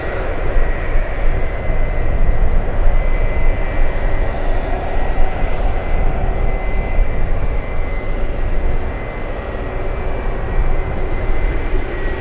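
A Boeing 757 jet at San Francisco airport gives off a loud, continuous engine roar and rush that holds steady throughout, heard from nearby on the field.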